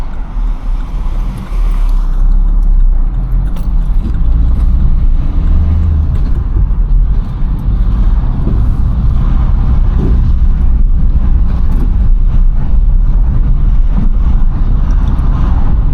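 A 2013 Opel Corsa diesel hatchback climbs a Greek mountain road in first gear, its engine droning steadily and loudly with continuous low rumble and road noise, no talking.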